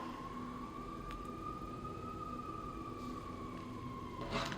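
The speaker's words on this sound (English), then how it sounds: "We're gonna wait for these sirens to pass." A wailing emergency siren drifts by at a distance in Chicago, its tone sweeping slowly up and down over steady low traffic rumble.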